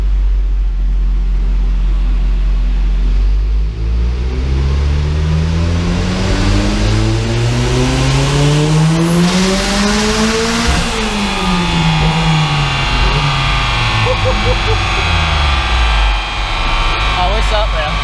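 A turbo van engine run up on a dyno: one sustained rev climbing steadily in pitch for about ten seconds, a brief high turbo whine near the top, then a long wind-down as the rollers coast, loud and close.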